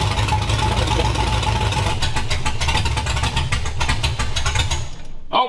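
An off-road bread van's carbureted engine idling steadily and loudly nearby, running until it runs out of gas, its rhythm growing choppier before it sputters and cuts out at the end.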